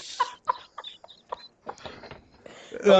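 Chickens clucking in short separate bursts, then a louder closing squawk, fairly close with no talk over them.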